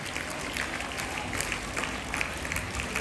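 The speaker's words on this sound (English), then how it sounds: "Children, a big hand clap to our sir" A room full of schoolchildren clapping hands at a Children's Day celebration, dense, steady applause heard at moderate distance for a few seconds.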